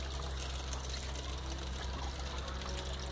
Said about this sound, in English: There's some water coming out.